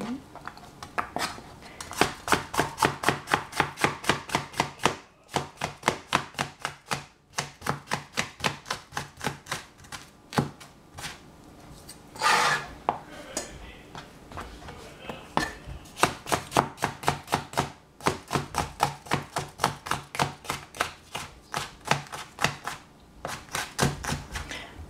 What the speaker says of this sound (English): Now, the vegetable has finished cutting, we can put on fire.